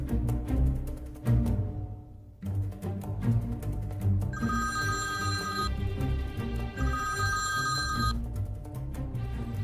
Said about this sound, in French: J'attends avec impatience le coup de fil de Christophe.